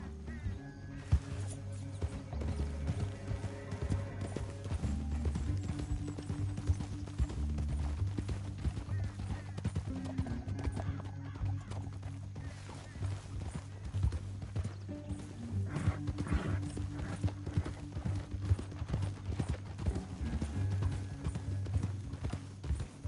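Horses' hooves clip-clop steadily and quite close in a steady rhythm for the whole stretch, joined by low rumbling and occasional sharper bangs.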